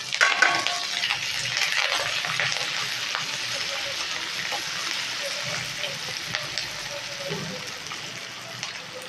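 Green chilies and curry leaves crackle and sizzle in hot oil in a pan, a dense, continuous frying hiss with occasional stirring clinks throughout.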